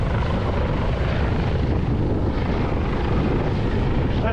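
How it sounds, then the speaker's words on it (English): A drone flies low overhead at a windy suburban beach, a loud, steady whirring rush heavily mixed with wind noise and no speech. "That's just my drone, guys."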